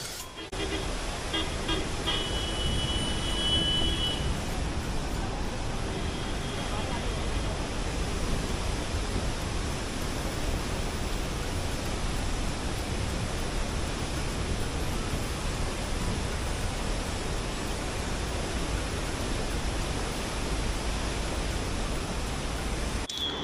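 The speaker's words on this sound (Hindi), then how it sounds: "एकदम हाइट से नीचे गिर रहा है पानी। और ये देखो आवाज़ सुनो बस पानी की आप।" A mountain torrent on the Adi Kailash route crashes steeply down from a height, making a loud, continuous broadband roar that fills the whole stretch without letting up.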